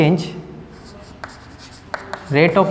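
A teacher chalking an expression on a classroom board during a physics lecture on momentum, short scratchy tapping strokes scattered between stretches of his speech.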